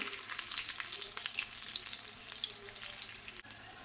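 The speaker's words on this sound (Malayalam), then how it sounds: "അതിലേക്ക് 1 ടീസ്പൂൺ വെളിച്ചെണ്ണ ഒഴിച്ച് കൊടുക്കാം. ഇത് ഒരു 5 കൊച്ചുള്ളി ചെറുതായി കട്ട് ചെയ്തതാണ്, അതിട്ട് കൊടുക്കാം." Chopped shallots fry in a teaspoon of coconut oil in a pan, giving a steady, close sizzle with bright crackling spatter throughout and no voices.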